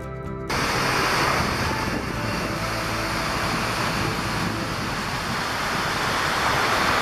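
Sea waves wash against the rocky coast at Câmara de Lobos on Madeira, a broad, steady roar of surf with some wind buffeting the microphone, and no voices.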